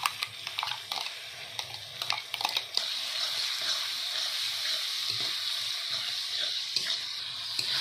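Ginger, cumin, dried chili, garlic and chopped onion frying in a pan for chicken biryani, a steady close sizzle after a few scraping stirs at the start.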